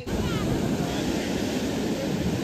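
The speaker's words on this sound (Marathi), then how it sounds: "बीच वरती आम्ही आलेलो आहे." Steady, broadband wash of surf breaking on Guhagar beach, continuous and fairly loud with wind buffeting the microphone, and no voices over it.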